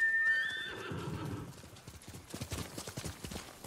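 A horse whinnies in Ghost of Tsushima with a rising, quavering call, then hooves clip-clop in a quick uneven rhythm nearby.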